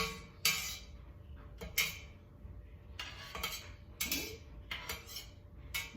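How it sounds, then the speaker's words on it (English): A cheese knife slicing through raw-milk cheddar curds in a metal pot makes sharp, intermittent clinks and scrapes against the pot, several separate strokes spread across the stretch at close range. "I'm gonna go this way at an angle to try and cut through and make those cubes."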